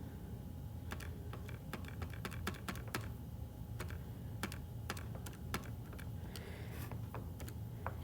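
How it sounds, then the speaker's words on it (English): Calculator keys tapped in quick irregular bursts to enter a long arithmetic sequence problem, with a steady stream of small close clicks and no talking. "I'm going to type this long problem into my calculator."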